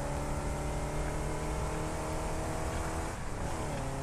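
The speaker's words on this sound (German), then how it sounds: "Da oben fährt unser Transporter mit unserem mit unserer Schwefelsäure." A transporter vehicle hauling sulfuric acid in the factory-building game Satisfactory, giving a steady, loud engine drone with harmonic hum that runs throughout without a break.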